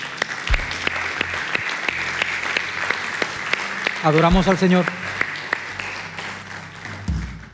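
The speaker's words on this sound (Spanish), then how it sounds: "Le damos un aplauso al Rey de Reyes." A church congregation claps steadily, filling the space with continuous applause, while someone speaks briefly over it partway through.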